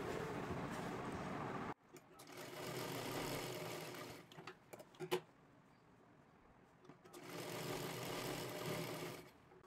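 Sewing machine stitching a frill onto a girl's lehenga, running in two long steady bursts separated by a pause filled with a few small clicks and handling noises.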